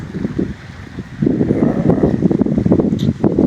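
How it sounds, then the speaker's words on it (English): Gusty wind buffeting the microphone at a riverside campsite on the Rio Grande in New Mexico, loud rumbling bursts that rise and fall continuously with a brief lull near the start. "I'm going to get out of the wind try to get out of the wind here."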